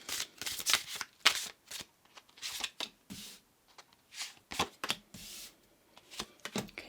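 Tarot cards being shuffled and handled by hand during a card reading, a steady run of soft riffling snaps and slides, close and fairly quiet, with no talking.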